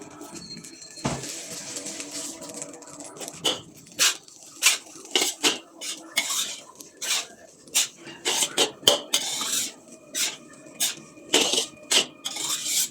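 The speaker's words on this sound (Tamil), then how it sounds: "ஓகே, போட்டு நல்லா கிண்டுவோம்." Nasi goreng kampung, a spicy Malaysian village-style fried rice, being stirred and scraped in a pan: a steady run of short, sharp metallic scrapes and clacks repeating in an uneven rhythm, close and fairly loud, with a low background hum.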